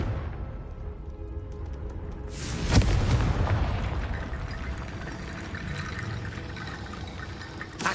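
Confringo fire spell exploding in Hogwarts Legacy: a low ambient rumble, then a sudden loud boom near the three-second mark followed by a long roaring, crackling wash that lingers to the end.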